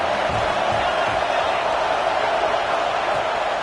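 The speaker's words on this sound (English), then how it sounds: "This crowd bringing the energy and noise early." Steady, dense stadium crowd roar in a college football video game fills the whole stretch, a broad wash of many voices with faint cheering, loud and continuous without pauses.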